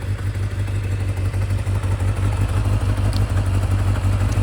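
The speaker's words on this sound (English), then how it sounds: "Sounds like a Kawasaki." A Kawasaki Zephyr 750 motorcycle engine runs steadily at idle, a close, loud, even low throb with faint mechanical clatter and no voices.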